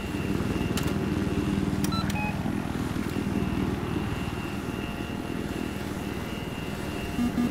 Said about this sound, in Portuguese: Acho que é helicóptero que tá vindo aí